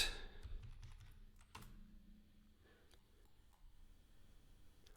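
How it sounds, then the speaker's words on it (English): A computer keyboard is tapped in a short quiet burst of keystrokes, faint and close, with a few scattered clicks and no talking. "Let's type the password."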